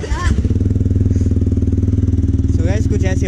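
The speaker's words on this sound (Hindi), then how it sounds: "बाकी एग्जॉस्ट की साउंड मैं आपको सुनाता हूँ।" A TVS Apache 160 4V motorcycle with a full-system exhaust and dB killer idles steadily up close, its low, even thump running throughout while a voice speaks briefly over it.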